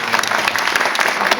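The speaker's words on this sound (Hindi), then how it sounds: "अपने लिए फिर से तालियां" Audience applause breaks out at a show in a Bollywood Film City chroma studio, a short, dense burst of many hands clapping together, close and steady.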